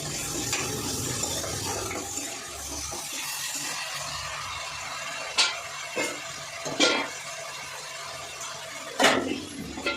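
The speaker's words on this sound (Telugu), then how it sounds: "ఉల్లిగడ్డలు తొందరగా ఫ్రై అయ్యింది." Onions frying in a pan for a moong dal dish, a steady close sizzle with occasional sharper stirring scrapes and knocks of a spoon against the pan.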